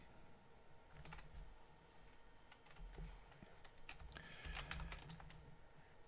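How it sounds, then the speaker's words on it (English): A loud computer keyboard clatters with fast, irregular keystrokes in quick bursts, heard close up with no talk over it. "I don't think I sorted out my quieting my keyboard yet. So pretty loud."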